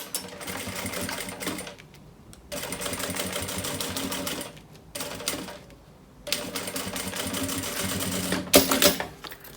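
A sewing machine stitches a seam along a fabric edge before bias binding is added, running in three long steady bursts with short pauses between, close and loud with no talk.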